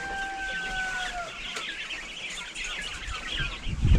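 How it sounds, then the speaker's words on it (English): A flock of young meat chickens clucking and chirping nonstop, close by, with a brief high tone at the start and a soft thump near the end. "These are the meat birds."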